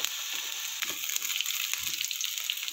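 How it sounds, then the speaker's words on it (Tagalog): Garlic and onions sautéing in oil at the start of a sarciado pork chop dish, a close, continuous frying sizzle with a couple of soft stirring knocks. "So magsuti muna tayo ng garlic at onions."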